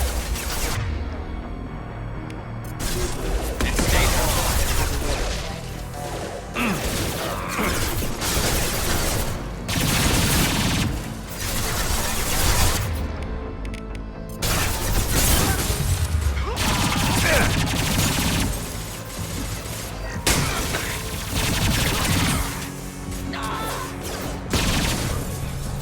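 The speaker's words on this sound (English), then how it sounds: "Taking heavy fire." Sustained heavy gunfire in the Mass Effect 2 video game, with loud bursts of shots, crashes and impacts rolling on continuously. A few short quieter gaps break the barrage.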